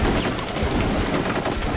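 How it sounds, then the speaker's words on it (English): Heavy gunfire in the video game Full Spectrum Warrior: a dense, constant wall of overlapping rifle and machine-gun shots at steady loud volume, with no voices. "Yeah, taking fire. Fire team, Bravo! Go, go, go! Heavy fire!"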